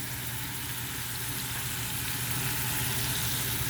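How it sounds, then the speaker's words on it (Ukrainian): Steady, loud sizzling of cabbage, mushrooms and onion frying in a hot pan, a continuous hiss with no voices over it. "Далі на сковороду все це виливаю, де смажиться в мене"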